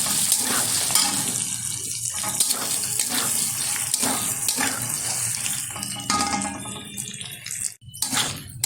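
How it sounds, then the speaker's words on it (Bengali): Peeled onion petals are stirred in hot oil while making chili chicken. A loud, steady sizzling hiss carries light scraping throughout, with a brief dip near the end and no talking. "এবার একটু নাড়াচাড়া করে নেব তেলের সাথে।"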